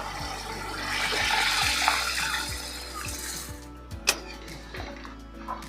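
Tamarind water and cucumber cooking water are poured into a cucumber chutney, a close splashing pour that tapers off into a few faint clinks near the end.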